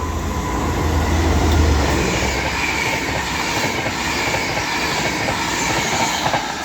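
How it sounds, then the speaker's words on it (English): A Transport for Wales train hauled by Class 67 locomotive 67022 with driving trailer 82229 races through Cheadle Hulme at speed, a loud, close rush of wheels and rail noise with a low engine drone early on, steady for the whole stretch and free of talk. "The next train to be screaming down will be a 6782 pairing for Transport for Wales from Cardiff Central to Manchester Piccadilly."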